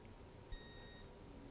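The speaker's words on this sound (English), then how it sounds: "You'll hear one long beep," A single electronic beep from a Garmin Delta XC dog training collar switching off, high-pitched and clean, lasting about half a second, close and alone in a quiet room.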